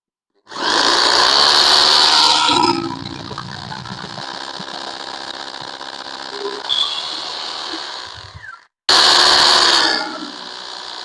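A hammer drill whines loudly as it bores into a wall, settles into a steadier grind, stops briefly, then starts again with a short burst.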